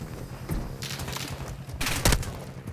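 Bursts of gunfire during a Call of Duty DMZ match, a couple of sharp reports around the half-second mark and a louder cluster near two seconds, over constant game ambience.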